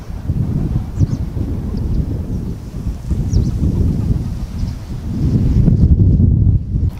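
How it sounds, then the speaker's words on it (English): Blustery wind buffets a farm in a loud, steady low roar with gusts swelling and dropping, close up against the microphone and no voices heard. "obviously it's quite blustery today"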